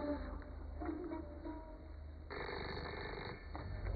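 A telephone rings indoors in a scene from an Iranian drama series, with a steady electronic ring tone that carries over a low background hum.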